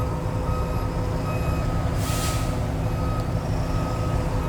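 A Volvo A40G articulated dump truck idles with a steady low engine rumble during a brake test, a reversing beeper sounding repeatedly over it and a short burst of air hiss in the middle.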